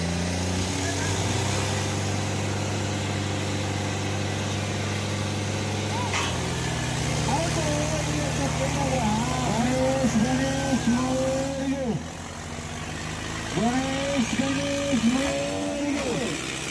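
A tractor engine runs at a rural gathering with New Holland 3630 and Eicher 557 tractors, a loud steady diesel rumble that rises and falls in revs, with people talking over it.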